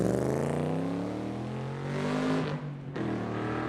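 A blue and orange 2020 Factory 5 Type 65 Daytona race car, a replica of the 1965 Daytona Coupe, roars by at a drag event with a loud, rising engine note and harmonic whine that drops sharply off near the end.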